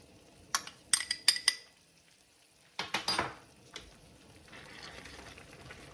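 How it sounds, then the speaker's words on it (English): A spoon stirs a slurry into a saltimbocca pan sauce, clinking sharply against the pan in quick bursts with pauses between, over a faint sizzle of the simmering sauce. "stir it up so that I have like a little slurry"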